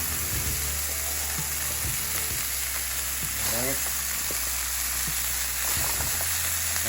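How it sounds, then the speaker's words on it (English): Cabbage softening in a hot pan with olive oil and butter gives a steady, close frying sizzle throughout, with occasional stirring scrapes and a few brief spoken words over it. "So let's go ahead and cook the cabbage, let that soften."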